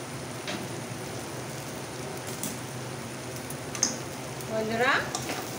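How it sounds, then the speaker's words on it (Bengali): Chana dal and potatoes fry in a pan, a continuous close sizzle with spoon scrapes and stirring, and a brief voice toward the end. "ছোলার ডাল আর আলু আমি ভালো করে একটু কষিয়ে নিয়েছি, কড়াইতে লেগে আসছে।"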